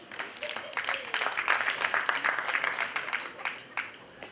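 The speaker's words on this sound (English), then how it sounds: "Round of applause for her, please." Audience applause at a community association fundraiser dinner, moderately dense clapping that swells and holds for a few seconds amid a murmur of voices in the room.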